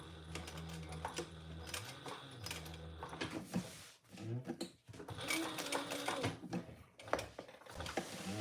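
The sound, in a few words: sewing machine back stitching a trifold wallet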